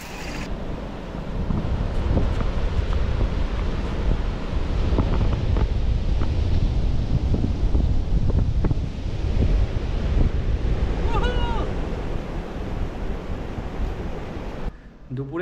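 Sea waves wash steadily onto Gopalpur beach while wind buffets the microphone in a continuous broad roar, with faint voices briefly audible under the surf.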